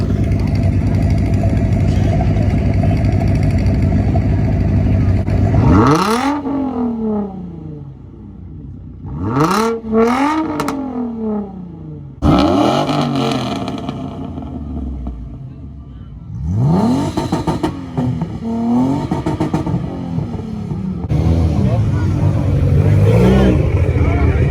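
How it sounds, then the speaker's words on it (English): A Mitsubishi Lancer Evo with a loud, rough idle rumbles close by, broken by several sharp throttle blips that rise and fall in pitch, then settles back into a gnarly idle, with speech mixed in. "This thing, dude, won't shut up. Thing's idle is gnarly."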